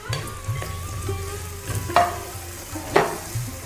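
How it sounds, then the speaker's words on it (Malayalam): Potato, ivy gourd, taro, pumpkin, ash gourd, snake gourd and drumstick pieces sauté in hot oil for an Onam sadhya dish, with a soft sizzle under a few distinct stirring scrapes and clacks against the pan. "ഇതെല്ലാം ഇട്ട് നമുക്കൊന്ന് വഴറ്റിയെടുക്കാം"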